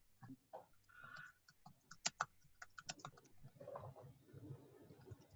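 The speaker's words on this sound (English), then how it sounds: "I'm just typing in the thing for them." Quiet, irregular clicking of keys on a computer keyboard, with soft murmured talk in the background.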